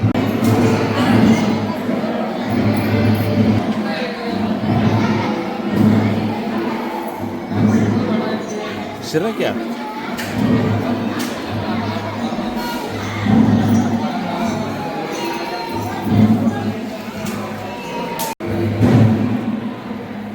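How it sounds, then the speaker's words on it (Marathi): A dense crowd of devotees fills Mayakka Devi temple on a busy Tuesday, a continuous loud murmur of many voices with scattered shouts and nearby speech running throughout. "आज आहे मंगळवार, त्यामुळे बरीच गर्दी आहे"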